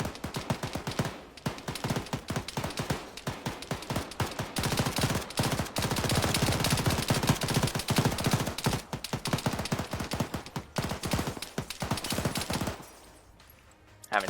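Sustained Arma 3 video-game gunfire: dense automatic bursts and rapid single shots crackle almost continuously for about thirteen seconds, loud and close, before cutting out into quieter background near the end.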